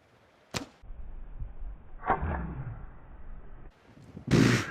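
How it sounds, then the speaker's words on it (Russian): A thin arrow loosed from a bow, with a sharp release snap, a brief whoosh and then a loud, sudden impact as it strikes a target, among quieter handling noises. "Вот еще тоненькая стрела. Мне кажется, она развалится от того, что стрянет в мишень."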